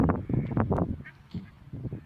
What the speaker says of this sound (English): look at all these geese